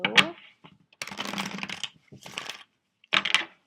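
Tarot cards shuffled by hand during a love reading, giving soft papery riffles and flicks in several short bursts with gaps between, close and moderately quiet.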